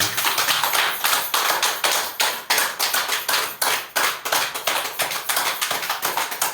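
An audience claps hard at a Patriji birth-anniversary celebration held by a Dubbaka meditation committee, marking the end of a 24-hour continuous meditation. The applause is dense, loud and steady, with sharp overlapping claps throughout.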